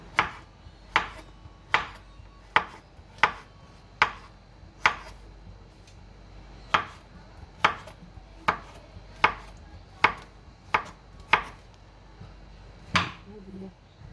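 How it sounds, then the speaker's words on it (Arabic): A knife chopping zucchini on a cutting board, about sixteen sharp, evenly spaced chops close up in a quiet kitchen, with a short pause partway through. "نقطع دابا نقطع القرعه على هذا الشكل هذا"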